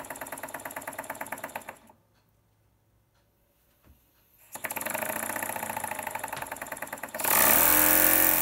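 A PM Research No.2 model steam engine running on compressed air makes a steady, fast chuffing rhythm that stops for a couple of seconds, then resumes and grows louder with a hissing rush near the end.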